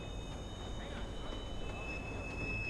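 A train pulls in within the video game Watch Dogs, a low, steady rumble with a faint metallic hum, heard quietly and continuously at a distance.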